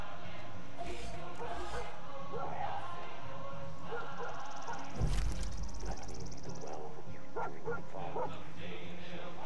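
Dog barking and yipping excitedly in Far Cry 5, a steady run of near, mid-loud barks with whimpers, under game background sounds and a player talking over it.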